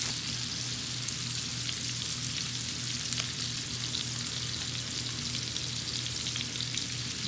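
Garlic and steak sizzle steadily in a hot cast iron pan, a dense, even frying hiss that holds close and loud throughout with no talk over it.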